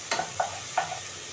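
Shrimp being stirred in a hot pan: three or four soft scraping strokes at a steady pace over a faint sizzle, close and fairly quiet, with no voices.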